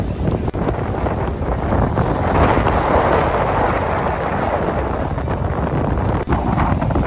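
Strong cold wind at Whitstable Harbour roars and buffets the microphone in a continuous rushing blast, loud and close, with no voices.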